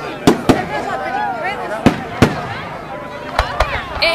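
Bonfire Night fireworks display in Warwick, with sharp loud bangs and crackling bursts at uneven intervals, several close together, over a murmur of crowd noise outdoors.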